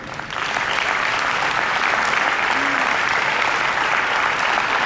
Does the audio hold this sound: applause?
yes